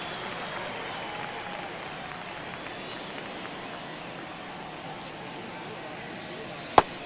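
Stadium crowd noise from the baseball video game MLB The Show 2024, a steady, dense roar of many voices across the whole stretch, with one sharp, brief knock near the end.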